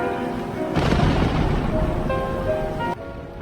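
Thunder rumbling through a storm, a loud, dense roll that swells and holds for about two seconds before cutting off abruptly, leaving a quieter rumbling tail.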